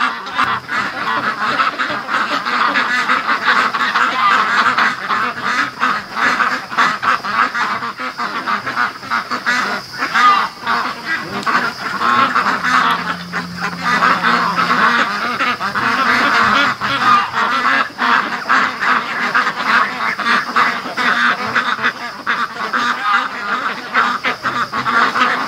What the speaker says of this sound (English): Oh, ducks.